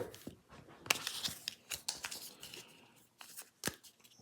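Game cards from a deck for the board game Enemy Action: Ardennes are shuffled by hand on a table, a close, quiet series of crisp riffles and slaps in irregular bursts.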